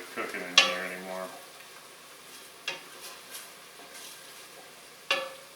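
Chopped onion sizzling softly in a pot with little liquid left, punctuated by a few sharp scrapes and clinks of a stirring utensil, no voices.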